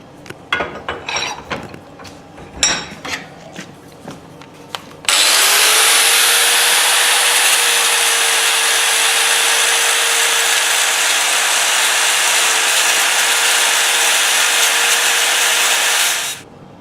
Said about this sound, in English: I'm going to finish grinding this back to the right size